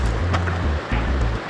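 The McCloud River in Northern California flowing beside a hiking path, a loud, full rushing of water with rumbling low surges and gusty noise close to the microphone, no voices.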